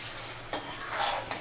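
Murigondo is stirred and sautéed in a pan: a brief utensil scrape against the metal, then a louder swish of stirring over a steady sizzle, close up.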